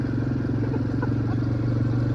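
An ATV engine runs steadily at close range during a ride in Bali, giving a continuous, loud, even idle-like drone with a faint clatter and no voices.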